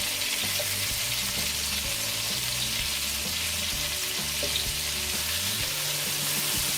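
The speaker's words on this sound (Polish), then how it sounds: "Delikatnie sobie tak smażymy." Meatballs sizzle and crackle steadily in a hot pan, with soft background music playing underneath throughout.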